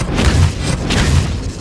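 Expelliarmus disarming spell cast in Hogwarts Legacy, two deep booming thumps about a second apart, close and fairly loud over a low rumble.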